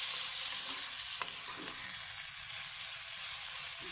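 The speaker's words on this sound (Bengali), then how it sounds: "দেখুন আমার শাক ভাজাটা প্রায় হয়ে আসছে, এখন নামিয়ে ফেলবো।" Leafy greens stir-frying in a pan, a steady close hiss of sizzling oil with occasional light scrapes of a spatula as the greens are stirred, heard alone without talk.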